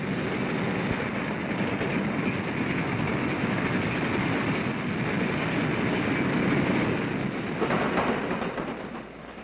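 Norfolk and Western railroad train rolling along the tracks, a loud continuous rumble and clatter close by, steady for about nine seconds before easing slightly.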